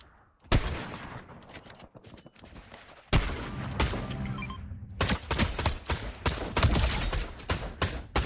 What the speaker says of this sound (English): What the hell am I shooting?